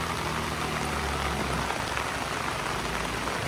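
Heavy rain pours down steadily on a slick, muddy road, a dense, continuous hiss of falling water filling the whole clip, with a faint low rumble underneath at the start.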